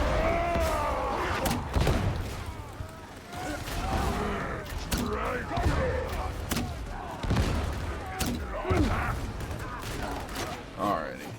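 Ogryn gunfire in Warhammer 40,000: Darktide: heavy repeated gunshots and thuds in a busy battle mix, with someone speaking over much of it.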